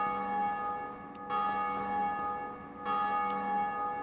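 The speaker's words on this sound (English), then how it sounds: "let's ring the bell" Bell tolls in Dark Souls Remastered ring out with sustained, layered metallic tones, struck twice in succession, each peal swelling loud and lingering without any speech.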